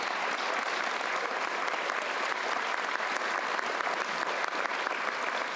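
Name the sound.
applause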